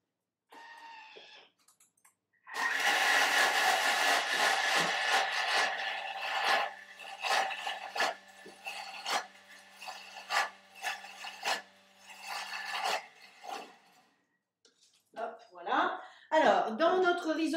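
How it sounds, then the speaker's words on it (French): Kitchen food processor whirring while cooking a quinoa risotto, a harsh rasping motor noise running for about ten seconds, stopping and restarting in short bursts, with people talking before and after. "on entend quand je mets le robot"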